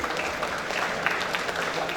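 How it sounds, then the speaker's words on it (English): An audience at a tech conference session applauds its panelists, a short, steady burst of many hands clapping at moderate loudness. "Give applause teman-teman buat panelis kita hari ini"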